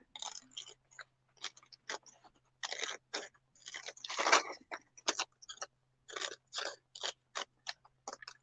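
Scissors cut paper along a pencil line in a series of short, crisp snips and crunches, irregularly spaced and close, with brief quiet gaps and a faint steady hum underneath.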